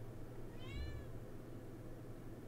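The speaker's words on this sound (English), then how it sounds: "If y'all hear my cat meowing, I'm so sorry." Indoor cat giving one short, faint meow in the background over a steady low hum, with no other sounds around it.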